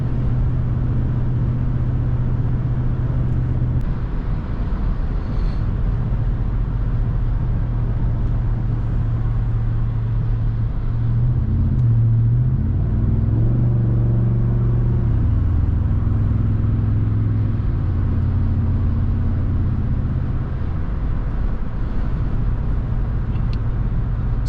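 A 2023 Ford F-150 with a 5.0 V8 and Flowmaster FlowFX exhaust cruises on the freeway, giving a steady low engine drone and road rumble with a brief rise in pitch midway.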